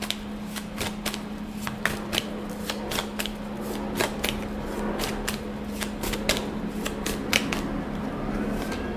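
Tarot cards shuffled by hand in a quiet room, with quick crisp snaps repeating at a steady, fairly even rhythm throughout over a low constant hum.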